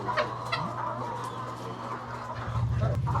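Hens at a layer poultry farm in Cordova, Cebu cluck and squawk in short bursts close by, with a steady hum of farm background beneath, no talk.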